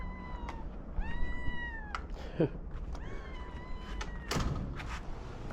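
A hungry cat meows repeatedly at feeding time, several rising, insistent meows close by, with a couple of sharp knocks between them.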